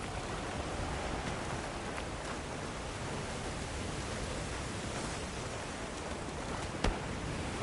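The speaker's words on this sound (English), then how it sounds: "A downpour like this could have an effect on the monsters." A heavy downpour in the Monster Hunter Wilds forest, a dense, even wash of rain noise with no breaks and a single faint tap near the end.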